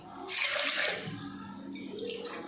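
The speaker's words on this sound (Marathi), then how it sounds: "1 ग्लासानं 3 ग्लास पाणी टाकणार आहे आता।" Water is poured into rice for a vegetable pulao before pressure cooking, a short gushing splash that swells quickly, then settles into a softer trickle, close and alone.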